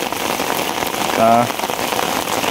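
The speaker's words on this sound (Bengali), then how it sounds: "ভিডিওতে দেখতে পাচ্ছেন যে কী পরিমাণ বৃষ্টি হইতেছে, প্রচুর পরিমাণ বৃষ্টি হইতেছে" Heavy rain pours steadily over a riverside char field during fishing with China duari nets, a dense continuous hiss throughout, with a brief tonal sound rising near the middle.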